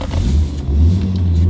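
An Audi RS2 engine rumbles loudly up close at launch, its low drone shifting as the revs fall to 2000 and then settle into a steady, heavy hum.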